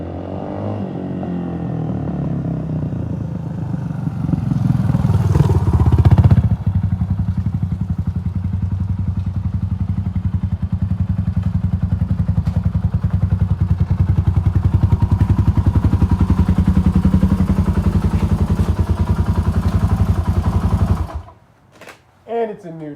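Suzuki DR350 motorcycle engine running after carburetor and clutch work, a loud, close, rhythmic thumping idle that holds for about twenty seconds before cutting out, with occasional voices.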